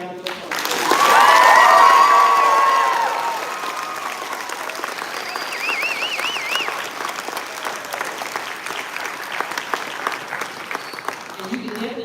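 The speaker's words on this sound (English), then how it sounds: "Can we give our seniors a round of applause?" A crowd at a 2022 early college high school graduation gives the seniors a round of applause: loud sustained clapping with cheers and whoops, settling into steadier, scattered clapping that continues to the end.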